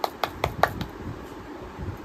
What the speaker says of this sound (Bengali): খুব সুন্দর লাগছে, খুব সুন্দর। হাততালি হাততালি হাততালি।